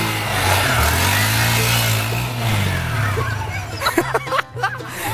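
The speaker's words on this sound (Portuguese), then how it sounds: "A moto saindo com a embreagem apertada" Motorcycle pulling away with its clutch held in, a low engine hum rising and falling before fading, then people laughing and talking nearby toward the end.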